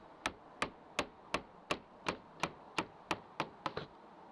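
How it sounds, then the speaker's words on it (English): Sharp hammer blows knock out a rotted wooden board on a deck railing in a steady rhythm, about a dozen evenly spaced knocks, close and fairly quiet with no talking. "grab a hammer and remove the rotted piece"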